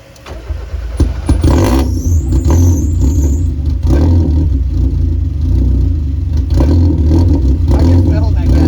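A Mazda NA Miata engine revs up and holds at a high, rough idle after a new fuel pump install, loud and close, with a brief rise in pitch early on and voices talking over the engine.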